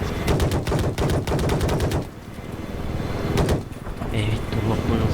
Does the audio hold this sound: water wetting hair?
no